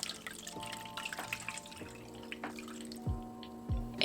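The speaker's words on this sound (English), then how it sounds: "I drained all the water" Water drains from cherry blossoms that have soaked for an hour, falling in faint, sparse drips and small trickles close by in a quiet kitchen.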